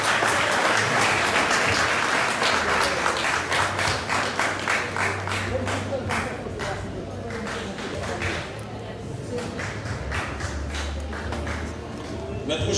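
Sustained applause from a graduation ceremony audience, dense overlapping clapping throughout with crowd murmur and a steady low hum, loud and continuous for the whole span.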